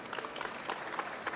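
Audience at a professional collaboration panel applauding, a brief burst of many hands clapping in a dense, fairly distant patter.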